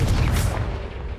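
A Confringo explosive spell blasts in the Hogwarts Legacy video game, a short, heavy, booming burst that rolls straight into dense rumbling debris noise with no pause.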